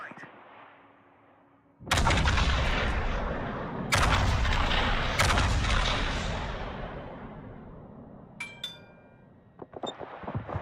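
Heavy naval guns boom in World of Warships, a massive blast followed by two more thunderous salvos that roll and decay over several seconds, then lighter sharp reports near the end.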